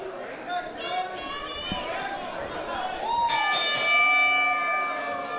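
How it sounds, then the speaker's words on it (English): A wrestling ring bell rings out once to start a main event championship match, a bright sustained clang ringing under a commentator's voice and crowd chatter. "The bell has rung."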